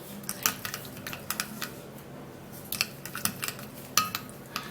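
A shea butter and oil blend stirred in a small container, heard as quick clusters of light scraping clicks from a utensil, close and soft, in irregular bursts with short pauses between them.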